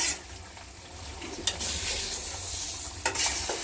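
Fish frying in a pan sizzles steadily and close, a continuous hiss broken by a couple of short louder bursts; no one speaks over it.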